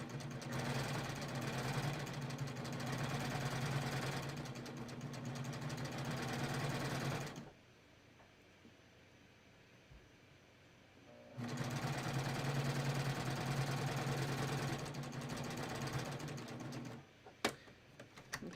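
A sewing machine stitching a cover hem on a tee, passing over a side seam: a steady, fast mechanical whir that runs, stops for a few seconds of near silence, then runs again, with a few small clicks at the end.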